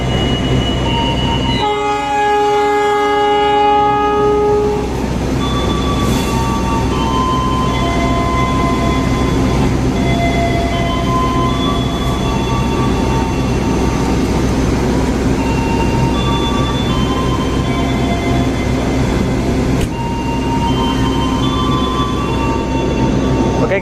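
A Papandayan passenger train departing a station, with a loud horn blast early on followed by steady rumbling and rail noise that carries on to the end.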